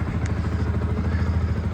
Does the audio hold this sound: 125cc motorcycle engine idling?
yes